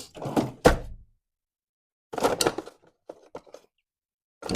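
A workshop drawer opened and shut while hunting for screwdrivers, with a couple of close wooden thunks and slides, a pause, then more rattling and knocking of drawer contents.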